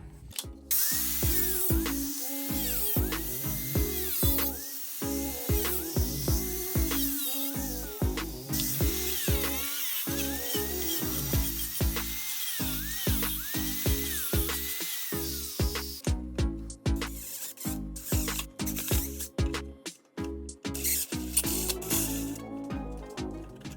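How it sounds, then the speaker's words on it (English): A power tool cuts out a section of a Sotion FW23 e-bike frame, grinding in rapid pulsing bursts with brief stops, loud and close and steady for most of the span. "we have to cut this whole section out and then drill a few holes for the mounting points on the subframe"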